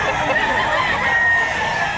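Chickens and a rooster at a busy Saturday poultry market in Lipa, Batangas, clucking steadily and fairly close amid crowd murmur.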